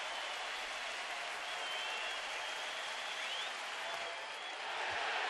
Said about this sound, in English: this crowd comes to life here with 2 down in the inning